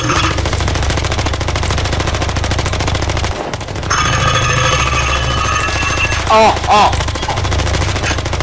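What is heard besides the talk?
gunfire in the video game Electric State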